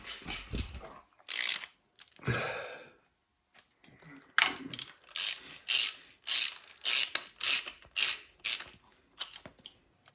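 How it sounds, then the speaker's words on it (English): A breaker bar twists out the head bolts on a 2007 Subaru WRX in a series of close, sharp ratcheting clicks and creaks that repeat in bursts with short pauses between them. "Put your OSHA certified braking bar down, and you can twist that bad boy out."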